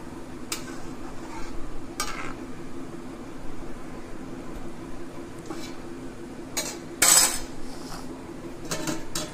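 Chicken cooking in a covered pot for Lucknow-style yakhni pulao: a low simmering bubble under a faint hum, with a few light metallic clinks and one brief louder clatter from the lid or a spoon.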